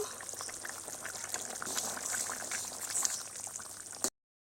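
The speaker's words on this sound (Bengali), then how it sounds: "ঘুগনিটা ফুটে গেছে, এবার আমি ঢাকাটা খুলে দেখব।" Ghugni, a yellow pea curry, boils in a covered pot on the stove with a steady hissing, bubbling simmer, and the sound cuts off abruptly at the end. It is close, continuous and unaccompanied by talk.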